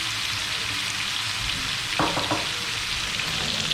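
Chicken pieces fry in oil in a pan for an Afghani chicken curry, a constant close sizzle with a few clinks and stirring sounds near the middle.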